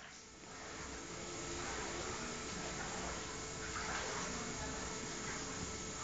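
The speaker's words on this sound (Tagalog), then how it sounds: "Ito ang bahay. Pinasok ng baha." Floodwater inside a flooded house gives off a steady, broad rush of flowing, gushing water, close and continuous throughout with no voices.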